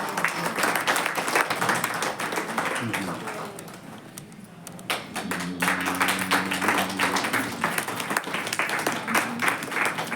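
An audience claps steadily through an honouring ceremony where parents receive a shawl from Srisailam Logistics, with the applause dipping briefly midway before swelling again and a voice talking over parts of it.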